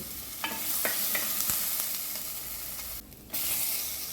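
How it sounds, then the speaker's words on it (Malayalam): Ginger sautéing in a pan for drumstick soup gives a close, steady sizzle with a few light spoon clicks and scrapes early on and a brief dip in the hiss near the end. "ഇനി ഒരു ചെറിയ കഷ്ണം ഇഞ്ചി ചേർച്ച് വെച്ചിട്ടുണ്ട് അതും കൂടി ചേർത്ത് കൊടുക്കാം ഇതെല്ലാം കൂടി കൂടി നന്നായിട്ടൊന്ന് വഴന്ന് വരട്ടെ"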